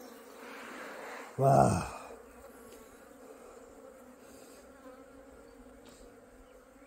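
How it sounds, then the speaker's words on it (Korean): Honeybees swarm around a 20-day-old beehive in summer, giving a steady, close buzzing hum throughout, with one short loud exclamation from a person near the start. "자, 20일 된 벌통입니다."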